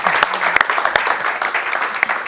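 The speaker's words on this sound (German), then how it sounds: "Den nächsten Applaus" An audience at an Adobe Stock evening event applauds an illustrator coming on stage, with brisk, close clapping and a few sharp individual claps standing out.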